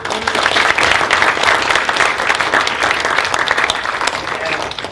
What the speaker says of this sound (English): Maybe just one more round of applause